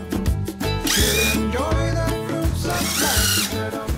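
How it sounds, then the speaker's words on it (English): Battery drill drilling holes, heard up close as loud bursts of whining motor and grinding bit that rise and fall in pitch, with a short pause between two drilling runs. "Today I had to get these holes drilled."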